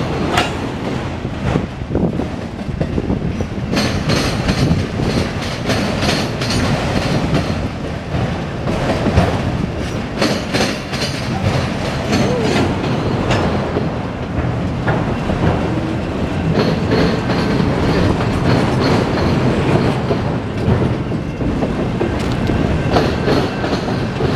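A CSX westbound autorack freight train rolls steadily past in Fostoria, Ohio while turning northbound, a loud continuous rumble of railcars with rhythmic wheel clatter and occasional faint squeal.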